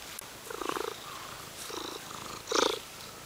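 A hungry cat purring close up, in a room where an old Landis & Gyr kWh meter is running, the soft rhythmic purr coming in three swelling bursts with quiet gaps between them, and no talking.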